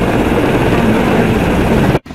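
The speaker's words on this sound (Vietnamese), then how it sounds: "Army helicopter." A military helicopter roars loud and close with a heavy, steady rotor-and-engine drone that cuts off abruptly near the end.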